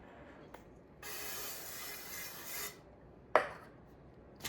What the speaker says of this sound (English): Alright, so I'm going to grease the pan.